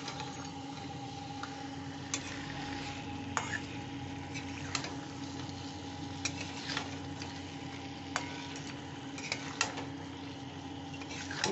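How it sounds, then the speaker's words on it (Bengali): Paneer cubes are tossed with red amaranth leaves in a pan, giving a steady, soft sizzle. Light spatula scrapes and taps come at irregular intervals throughout. "এই পনিরগুলো দিয়ে দিচ্ছি, এবার ধীরে ধীরে আমি এটা একটু ওলট পালট করে দিচ্ছি"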